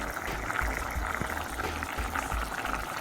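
Water is poured into a pot of Jamaican stew peas, a soft, continuous gurgling splash heard close but quietly for a few seconds.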